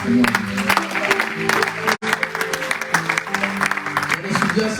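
A church congregation claps and cheers in praise, dense applause and raised voices filling the room with a brief drop partway through, mixed with music.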